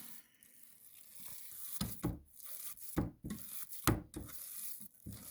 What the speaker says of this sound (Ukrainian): Фарш потрібно дуже гарно вимішати.